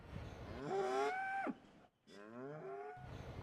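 Dairy cows moo on a farm with milking robots, two long, loud lowing calls close by, separated by a short pause.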